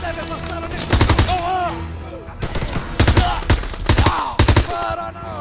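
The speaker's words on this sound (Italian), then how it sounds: "Sparano!" Machine gun fire in the WWII shooter Call of Duty WWII, heard as loud, rapid bursts of rattling shots in several volleys, mixed with shouting voices and battle noise.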